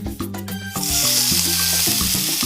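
Ground beef browning in a hot pan for carne molida, a steady loud sizzle building after a brief stir at the start, with no talking.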